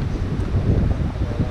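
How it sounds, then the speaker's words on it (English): Steady low wind buffeting the microphone on the mountain Pen Yr Ole Wen, a continuous rumbling roar with no pauses. "It's a chilly one and it's very windy."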